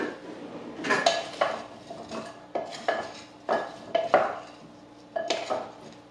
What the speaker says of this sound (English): And then we just need to stir that all together.